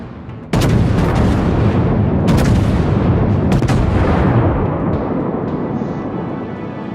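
Naval cannons firing in the World of Warships game: a loud sustained barrage with sharp blasts standing out at intervals over a dense rumbling roar of battle, with no speech.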